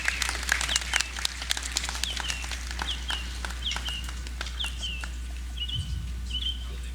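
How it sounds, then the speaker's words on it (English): Scattered audience applause at a National Heroes Day ceremony, moderately distant claps mixed with bird chirps and calls, a low steady hum running underneath. "Another round of applause for the Honorable Thomas William Farrington."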